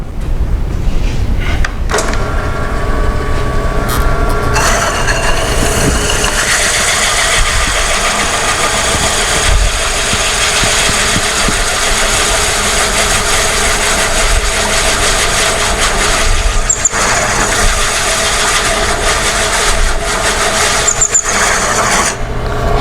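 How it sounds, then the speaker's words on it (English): A drill press cuts a hole with a hole saw, a steady loud grinding and rasping drone with a whining motor tone that runs unbroken throughout, close by, with no talking. "hole saws put a lot of torque on the piece, but we cut the hole"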